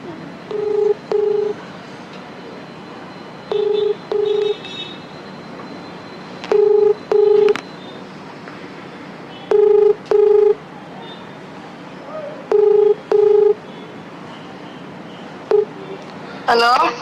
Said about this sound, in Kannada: ಈಗಲೇ ಫೋನ್ ಮಾಡ್ತೀನಿ ಲೈವ್ ಅಲ್ಲಿ